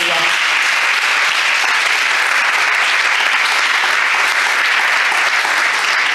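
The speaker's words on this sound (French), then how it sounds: "Est-ce que tu peux acclamer pour le Seigneur?" A church congregation at a Sunday service bursts into sustained applause, loud, dense clapping that holds steady from start to end without breaks.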